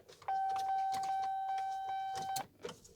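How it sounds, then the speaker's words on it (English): Keys-left-in warning chime in a 1999–2006 Chevy Silverado pickup: a steady electronic tone sounding for about two seconds, close and clear, then cutting off. "That chime's really useful."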